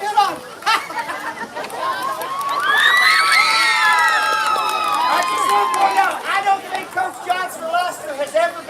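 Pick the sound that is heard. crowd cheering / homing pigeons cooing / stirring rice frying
crowd cheering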